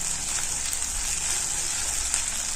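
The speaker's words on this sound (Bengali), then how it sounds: "এবার এই মশলাগুলো ভালো করে ভেজে নেব কিছুক্ষণ ধরে।" Ginger paste and green chilli paste frying in a pan for ghugni, a steady loud sizzle that holds constant throughout with no talk.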